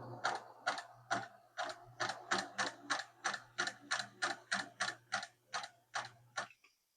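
Singer Model 534 sewing machine stitching at a steady pace, a close rhythmic series of about fifteen mechanical clacks over a low motor hum, then stopping; no talking.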